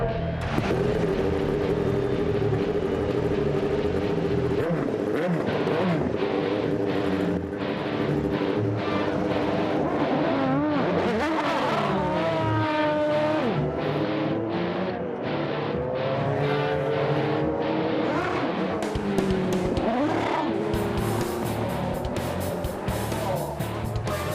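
Continuous roaring race car engines at a race start, with rising and falling revs, several cars sweeping past amid a steady loud rumble, voices faintly mixed in.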